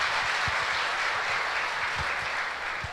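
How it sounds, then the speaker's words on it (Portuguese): A church congregation applauds together during a Portuguese-language sermon: dense, steady clapping that holds at an even level for the whole stretch, with no voices over it. "Se você gostou, dê um aplauso para Jesus."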